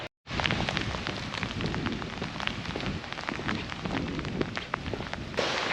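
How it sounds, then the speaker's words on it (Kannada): Sudden heavy rain near a beach, a steady dense roar of drops pelting surfaces close by, continuous and loud with no voices. "ಸಡನ್ನಾಗಿ ಮಳೆ ಬರೋಕ್ಕೆ ಸ್ಟಾರ್ಟ್ ಆಯಿತು"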